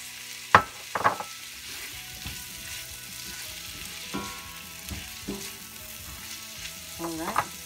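Mushrooms and tomatoes frying in a skillet give a soft, steady sizzle, broken by several sharp clatters and scrapes of a utensil against the pan, close and without talking.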